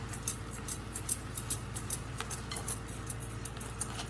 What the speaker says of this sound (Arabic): بخلط المكونات كلها مع بعض